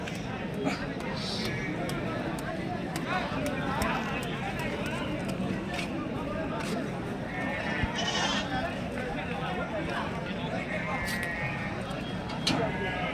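At a Tuesday livestock market in Kadiri, sheep and goats bleat again and again under a steady crowd murmur, with brief hoof clatter and nearby voices talking throughout.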